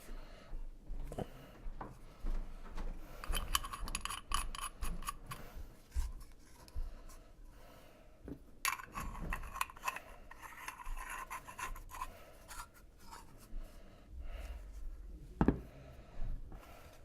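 Black iron pipe fittings are twisted together by hand for a lamp build, giving close, intermittent metallic scraping and rasping of threads with small clicks and ticks between quieter pauses.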